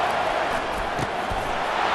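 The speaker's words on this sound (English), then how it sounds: "Here comes this home crowd as the defense tries to get off the field on third down." Home crowd noise in a Florida State at Clemson ACC rivalry game in EA Sports College Football, a steady broadband roar of cheering filling the whole moment with no break, as the defense faces third down.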